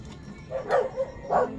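A dog gives two or three short barks at moderate distance, spaced about half a second apart.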